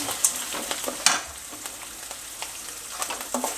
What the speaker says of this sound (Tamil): இஞ்சி பச்சை மிளகா இது அப்படியே ஒரு ரெண்டு வதக்க வதக்கிடலாம்